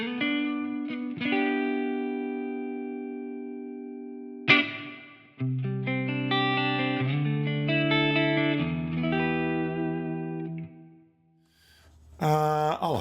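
Electric guitar played through the ML Sound Labs AMPED amp simulator with a long reverb set low in the mix, ringing chords and single notes with sustained decaying tails, a short pause near the end before a final strummed chord.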